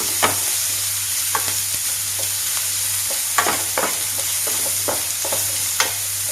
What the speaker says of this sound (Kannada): ನೀರುಳ್ಳಿ ಚೂರು ಎಣ್ಣೆ ಹಾಕಲಿ ಫ್ರೈ ಮಾಡಲಿ